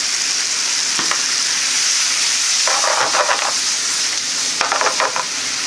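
Pork frying in a pan as yakiniku sauce goes in, a strong close hiss that swells into bursts of louder sizzling around the added liquid, with no talking.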